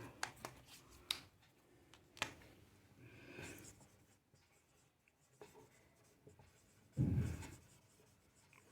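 Marker or chalk writing a definition on a classroom board during a lecture, soft scratchy strokes with sharp taps at the start and a louder thump near the end, quiet and close with no talking.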